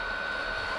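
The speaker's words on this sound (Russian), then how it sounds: "сейчас даже работает фен сухой, но от него шумно" A diesel air heater runs in a motorhome, giving a steady, loud blowing whir with a constant high whine and no pauses.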